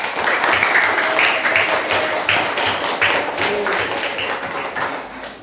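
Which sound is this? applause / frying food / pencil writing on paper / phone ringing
applause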